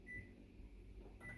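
A microwave oven hums steadily while melting butter, a faint continuous drone with a brief high tone near the start and a small shift in sound near the end.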